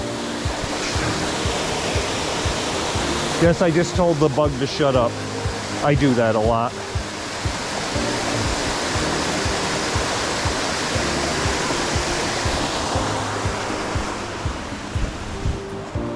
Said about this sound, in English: you can visit this waterfall at several levels